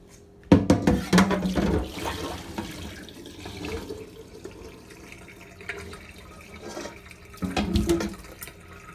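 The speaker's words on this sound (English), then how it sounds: "Now we're going to dump out this water." Water splashes and gushes from a wok into a sink in two bursts, a loud pour at the start and another near the end, with quieter trickling between.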